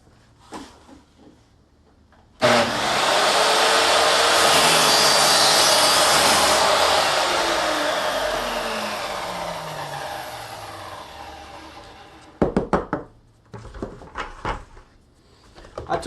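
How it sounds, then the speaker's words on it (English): A heat gun blows hot air onto plastic with a loud, steady broadband rush that runs for about ten seconds and slowly tapers off, followed by several sharp knocks and clatters from handling; no one speaks. "I took my heat gun"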